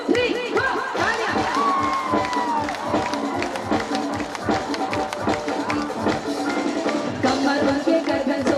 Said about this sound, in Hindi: दोनों हाथों को उठाकर चलिए तालियों के साथ